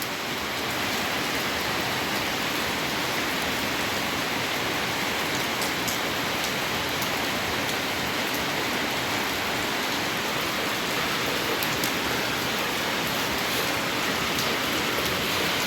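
Heavy, continuous rain pours down evenly over rice paddy fields in Thailand for the whole stretch, a dense wash of hissing patter with no voices over it.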